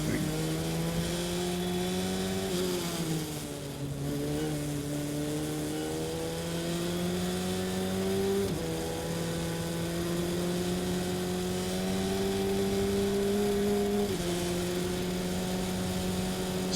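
A race car lapping Summit Point in an SVRA Group 2 race, heard from onboard as a loud, continuous engine drone that climbs steadily in pitch through each gear and drops sharply at every shift.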